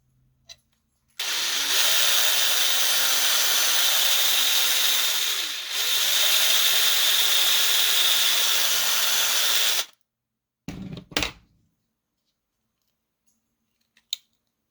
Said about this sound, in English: Let me drill this out a little bit more.